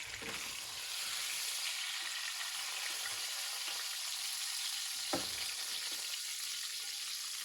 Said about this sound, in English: Searing that pork loin in it